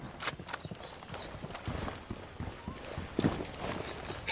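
Horse hooves clip-clopping in the video game Ghost Recon Wildlands, a steady run of quiet hoofbeats at moderate distance over a faint background, with a brief shout partway through.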